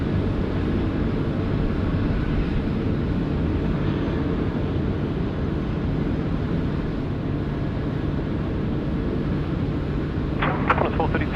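A Dash 8 turboprop at Sydney Airport gives off a steady, distant engine drone and rumble that holds for the whole stretch, with a faint click near the end.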